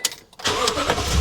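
A 2018-2019 Toyota Tundra pickup cranks and its engine catches after a short quiet pause, then settles into a steady, close idle with no talking.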